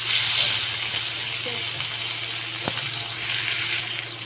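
Chopped tomato added to hot oil spiced with chilli, cinnamon, cardamom and cloves, giving a steady close hiss of frying with a faint clink of a utensil.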